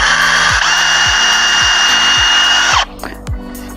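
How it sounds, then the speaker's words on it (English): A power drill whines steadily at close range, boring a pilot hole into wood with a rhythmic scraping, then stops abruptly and falls nearly quiet. "drill the hole into the wood."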